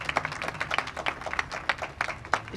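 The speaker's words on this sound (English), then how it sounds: "I want everyone to give her a huge round of applause" Audience applause honoring a housing official at a construction-start event for an affordable housing development, a dense patter of many hands at moderate level with faint murmuring underneath.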